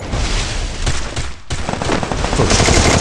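Rapid, dense video game gunfire from a ranked match, with a player under fire at close range; sustained automatic bursts fill the whole stretch, loud and continuous with only a brief dip midway.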